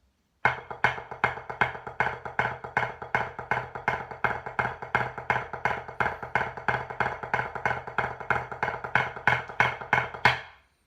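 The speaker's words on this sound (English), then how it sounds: "So from the top, the accel sounds like this." A drum accelerando from the Blue Devils 2015 drum break plays alone on a single drum: evenly spaced sharp strikes that start moderately fast and steadily quicken over about ten seconds, loud and close, with accents pulsing through the run.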